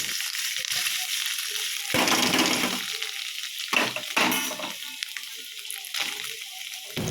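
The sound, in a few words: paneer pieces frying in oil in a wok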